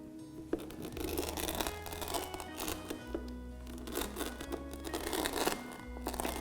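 Whole coriander seeds are coarsely crushed for aloo kadhi, giving a quiet, gritty crunching and scraping. It repeats in short uneven strokes, faint and close, over a low steady hum.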